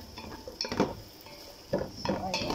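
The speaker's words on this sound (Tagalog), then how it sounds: "igigisa-gisa lang hanggang sa lumambot siya lahat" Crabs sauté in a pan for a coconut-milk dish, heard as two close bursts of clattering, scraping stirring against the pan with a faint sizzle between them and no talk.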